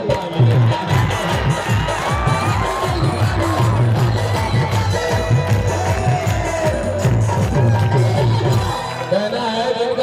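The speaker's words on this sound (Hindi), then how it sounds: "ताली ताली ताली बजा दो भैया ताली" A live Bhojpuri stage show crowd claps and cheers in a loud, continuous roar of applause and shouts, layered over a steady droning hum from the stage sound.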